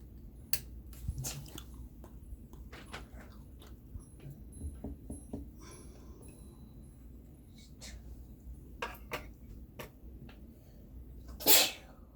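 A single sharp sneeze bursts out near the end, following quiet clicks, rustling and handling noises.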